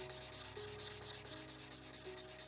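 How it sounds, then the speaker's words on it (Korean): Rhythmic hand sanding of a Damascus steel knife with sandpaper, even back-and-forth strokes repeating steadily at close range with no talking. "이 사포를 이용해서 작업을 할 거고, 낮은 입도부터 높은 입도까지 순차적으로 올라가고"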